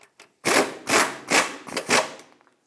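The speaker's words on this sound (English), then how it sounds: "Install the lower ball joint nut. Once you thread it on, snug it up." Ratcheting bursts on the lower ball joint nut of a 2008-2012 Honda Accord as the nut is threaded on and snugged up: four or five short, raspy, close metallic runs separated by brief pauses, with no talking.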